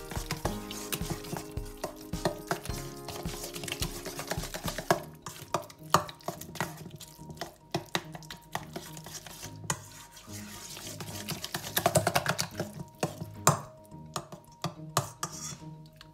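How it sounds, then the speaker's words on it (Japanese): Chopped pepper, garlic, onion and eggplant are mixed together in a bowl, with close scraping and stirring clatter in uneven strokes and faint background clinks. "でこの具材を全部混ぜ合わせます。"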